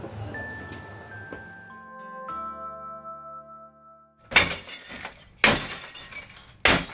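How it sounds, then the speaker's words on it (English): Glass bottles are smashed into a restaurant's glass recycling bin. After a quiet ringing hum, three loud crashing shatters of breaking glass come in quick succession. "Just basically smashing all the bottles in the glass bin, just to make sure that we use as much of the space as possible."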